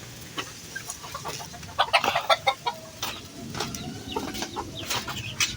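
Chickens cluck repeatedly around a coop, with a burst of louder, closer clucks in the middle and softer fowl calls continuing behind at moderate distance.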